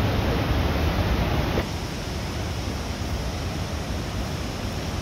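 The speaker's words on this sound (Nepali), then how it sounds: "यो चाहिँ हामी छिमटिकबाट निस्किने बाहिर आउने बित्तिकैको झरना यत्रो ठुलो छ।" A large waterfall near Chimtik in Nepal roars as a steady, broad, hissing rush of falling water, loud and unbroken, with no voices over it.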